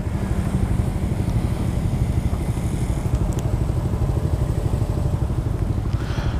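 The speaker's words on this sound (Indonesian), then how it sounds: "Halus banget main, sumpah motor ini halus banget." A Honda Forza 250 motor scooter engine drones steadily and loudly throughout while riding, with a constant low rumble and some faint rattling on top.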